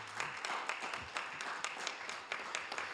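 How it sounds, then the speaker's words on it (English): Applause at a city council meeting after a Black History Month proclamation: a crowd claps steadily and fairly softly for about three seconds, with no voices standing out. "let's give this a big round of applause"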